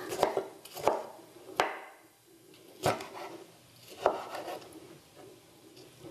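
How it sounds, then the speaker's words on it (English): A knife coarsely chops tomatoes on a board in several distinct, spaced strikes, close and crisp, with faint kitchen handling sounds between the cuts and no talking. "Now we have to chop up 2 tomatoes. Coarsely chopped. Just chop away."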